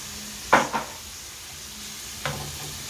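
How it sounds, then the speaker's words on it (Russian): Carrots and other vegetables stir-fried in a pan for a squid salad, a soft continuous sizzle broken by a few sharp utensil scrapes and clicks against the pan. "тушится, обжаривается."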